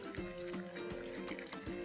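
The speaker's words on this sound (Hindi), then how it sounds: "अब डालेंगे थोड़ा सा पानी," Water pours into a pot of raw mango curry, a short gurgling trickle with light splashing, faint and close, with no one talking.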